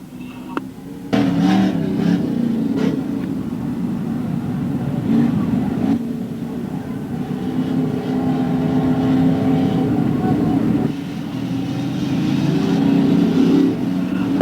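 Race cars at a Gasport race rumble steadily as they move out, a continuous loud engine drone with varying revs carrying on for the whole stretch, with occasional faint voices.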